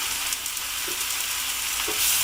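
Steady sizzling of dried mushrooms and chopped sun-dried tomatoes frying in a hot pan, a continuous crackling hiss with a couple of brief stirring scrapes, close and fairly loud.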